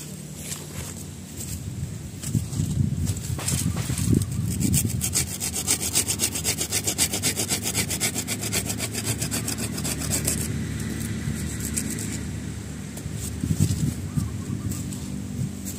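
Hand saw cutting through a branch of a waru bonsai, a steady back-and-forth rasp of teeth in wood running nearly the whole stretch, close and fairly loud, with a few brief knocks near the end and no talking.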